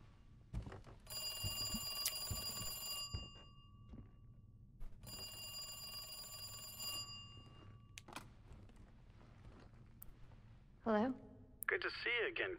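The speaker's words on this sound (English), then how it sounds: "phone's ringing" A telephone rings in the Resident Evil 2 video game, two loud, bright ringing bursts early on, followed by quieter game sounds and a voice.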